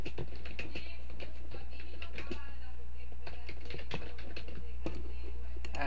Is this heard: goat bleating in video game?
no